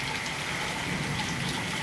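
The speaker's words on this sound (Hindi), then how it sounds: "देखिए, बारिश बहुत ज़बरदस्त है।" Steady, dense hiss of heavy rain pouring down, a constant wash of noise with no pauses or voices.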